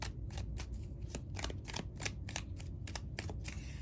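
Tarot cards are shuffled in quick, crisp riffling bursts that repeat at a regular pace, close and quiet, with no talking.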